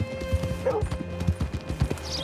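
Horse hooves clip-clopping in the video game Red Dead Redemption 2, a close, even walking rhythm of dull hoof strikes carrying on throughout without talk, over faint background tones.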